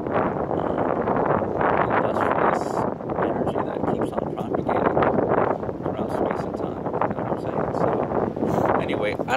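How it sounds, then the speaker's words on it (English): Strong cold wind outdoors buffets the microphone in a steady roaring rush, loud and constant throughout, with a voice partly buried beneath it. "It's so fucking windy out here"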